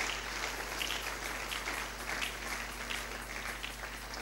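Church congregation applauding in a steady, broad wash of clapping that holds at an even level throughout, with a low constant hum beneath and no talking.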